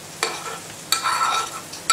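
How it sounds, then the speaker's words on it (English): Caramelised onion scraped and tipped from a hot pan into a heat-proof Corning bowl: a few short scraping bursts and a longer soft sizzling slide, close and moderately loud, with no voices. "It's caramelised, and you can see I'm just going to tip it straight into this"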